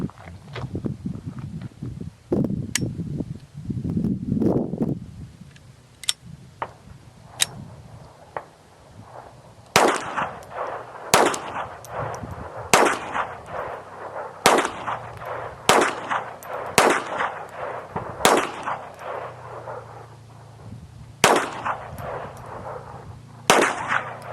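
A .22 rifle fires ten rounds of CCI Mini-Mags, sharp cracks spaced a second or two apart, after some handling and shuffling noises at the start.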